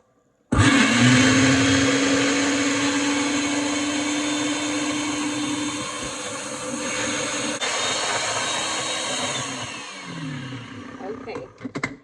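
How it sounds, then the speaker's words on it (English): A kitchen blender whirs loudly and steadily as it blends ice cream and milk into a milkshake, starting abruptly, droning for about eleven seconds, then winding down. "And then we blend this up."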